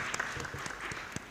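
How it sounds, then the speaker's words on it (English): Attendees at a national civil society convention clap in a hall, a soft and fairly distant patter of scattered hands with a few sharper individual claps standing out. "that is what I think it deserves a clap as well"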